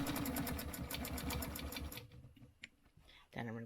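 A sewing machine runs fast and rhythmic for about two seconds, stitching a stencil quilting design. Quiet handling follows, then a brief voice.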